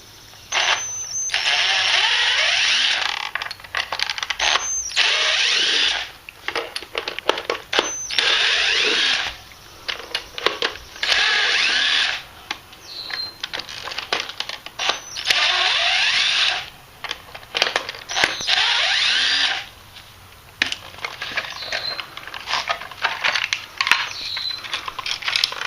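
Tools take apart the head of a trolling motor to reach its wires and screws, with close, intermittent bursts of ratcheting, scraping and metallic clatter separated by short pauses.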